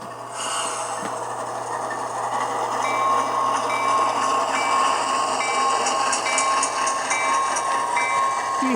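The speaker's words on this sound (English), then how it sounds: "we'll watch our train running over here." Model train rolling along layout track, a steady close mechanical whirr and hum with faint rhythmic clicking from the rails, building slightly as it runs.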